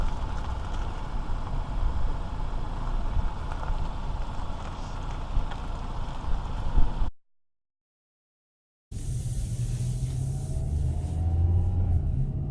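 A 2018 Kia Rio EX five-door with its four-cylinder engine on a test drive, a steady loud cabin rumble of engine and road noise, broken by a short silent gap before the drone resumes with a faint engine whine.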